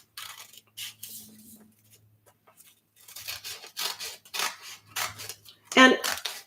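Scissors snip through paper for a Christmas gluebook collage, with scattered close cuts and rustles, a few sharper clips near the end, and a quiet voice talking in places.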